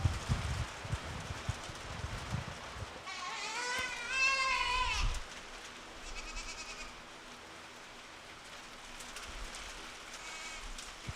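Goats bleating at a county 4-H livestock show, a nearby animal giving a wavering, harmonic-rich cry for about two seconds with fainter bleats later, amid barn bustle and shuffling.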